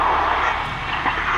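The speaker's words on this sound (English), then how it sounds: "Looks like this plane is trying to make an emergency landing during a tornado." A fixed-wing airplane engine drones steadily during an emergency landing in a tornado, a loud continuous broadband roar with no voices, captured from a security camera.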